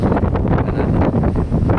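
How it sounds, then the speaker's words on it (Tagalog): Strong wind at sea on a cargo ship on a cloudy day, a loud continuous roar buffeting the microphone with gusty rumbling throughout. "So lakas-lakas yung hangin."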